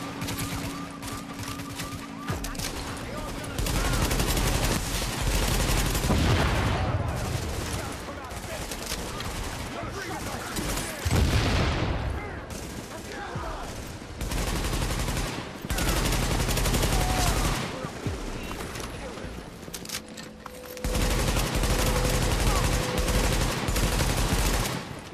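Small arms gunfire in The Division video game, with bursts of rapid shots and sustained automatic fire in a loud, chaotic firefight, pausing briefly between volleys.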